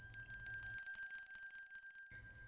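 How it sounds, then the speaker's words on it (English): A single small bell rings out with a bright, sustained metallic chime that slowly fades, heard alone in quiet surroundings. "the quiet chime of a bell is heard."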